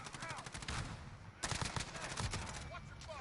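Gunfire in a shooter video game ending in a headshot: rapid, loud bursts of automatic fire in close, dense volleys with a brief pause before a second run of shots.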